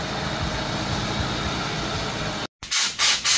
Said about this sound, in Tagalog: So ngayon tinetesting natin, tapos hanapin natin yung may konting misfire pa